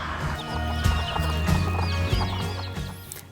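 A native-breed village hen clucks in low, repeated bursts close by, with faint high peeping that may be chicks overlapping at times.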